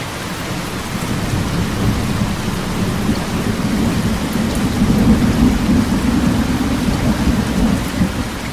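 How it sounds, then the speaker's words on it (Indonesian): Heavy rain pours down with rolling thunder as a sound effect in a drama, a loud, dense, unbroken roar of rainfall with low rumbling swells throughout. "pulang menerobos rintik hujan yang semakin deras"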